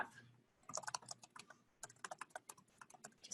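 Quick, irregular keystrokes on a computer keyboard, close and fairly faint, in a short burst, a brief pause, then another run of typing.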